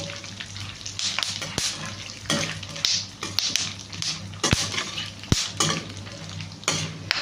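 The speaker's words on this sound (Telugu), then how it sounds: "చూసారు కదా ఎంత ఫాస్ట్గా ఫ్రై అవుతున్నాయో. చిటిపట అంటుంది దోసపప్పు అండి." Vermicelli and urad dal fry in a hot pan with a steady crackling sizzle, punctuated by sharp stirring scrapes and occasional utensil clinks, close and continuous.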